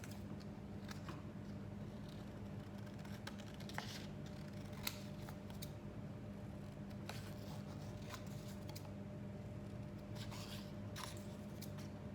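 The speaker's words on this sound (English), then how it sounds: "Oh, I needed to cut one more of these." Scissors cutting card for a tulip pop-up card, faint, close snips scattered irregularly over a low steady background hum.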